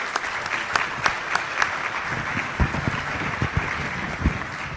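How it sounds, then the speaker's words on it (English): Audience applauding a panel of entrepreneurs after a talk, a dense continuous wash of clapping from a crowd, moderately loud and steady, with a few lower thumps near the end. "Let's give them a round of applause"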